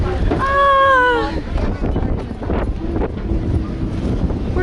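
Steady wind buffets the microphone with a low rumble at Bimini, Bahamas, while a person talks over it near the start.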